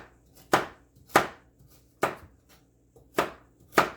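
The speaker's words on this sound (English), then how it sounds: "next we want to put in our carrots. I'm going to just give this a chop here." A knife chops carrots on a cutting board for ham and bean soup, giving five sharp, evenly spaced thunks about half a second apart, close and clear with no talking.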